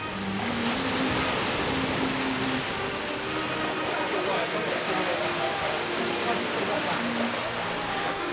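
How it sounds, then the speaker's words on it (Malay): Heavy rain pours down on an island near Mersing, Johor, as a loud, dense and continuous hiss that holds steady throughout. "Meskipun dalam hujan lebat,"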